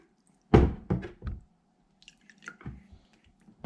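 Slime made from glue and 30 ml of water being stirred: a few quiet, close, wet squelching strokes, the first the strongest, then softer sticky clicks, with no talk.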